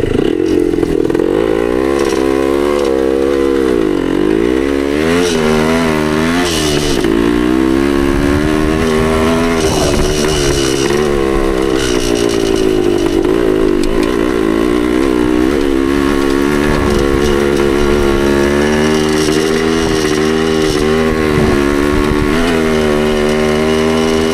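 A 1972 Yamaha DT2 dirt bike runs loud and close while being ridden over muddy ground, its engine note rising and falling continuously with throttle changes for the whole stretch, with no voices.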